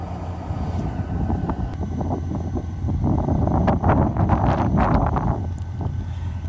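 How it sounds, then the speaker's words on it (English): Strong wind buffets the microphone by a bay, a constant loud rumbling roar with gusts swelling toward the middle, heard alone without talk. "It is pretty windy out here."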